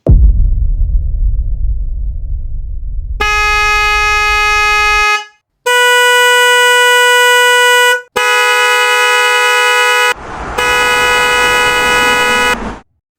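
A Hella dual-tone car horn sounds in four long, loud blasts with brief gaps, each a bright, steady, buzzing tone, following a low rumbling hum at the start and ending abruptly.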